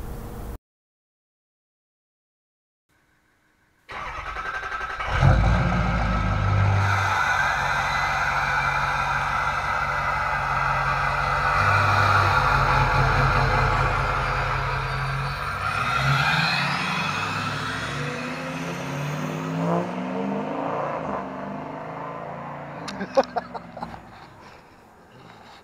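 After a few seconds of silence, a Ford 6.0 truck engine cranks and fires, then runs loud and close for about twenty seconds with rising revs before settling and fading, a few sharp clicks at the end.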